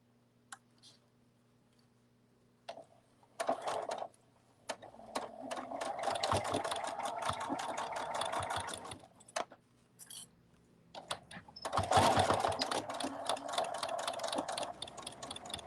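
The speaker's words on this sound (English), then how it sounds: "Now we're going to sew that seam open" A home sewing machine stitches a seam on a soft cuddle bunny toy in short bursts that start and stop, with light clicking between runs and a faster, louder run near the end.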